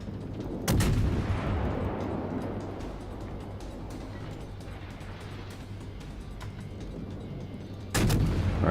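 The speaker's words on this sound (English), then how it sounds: "Alright, the bow guns have cleared it." A ship's bow guns fire in a naval video game, with two loud booming artillery blasts about seven seconds apart over a steady low engine drone and rumble.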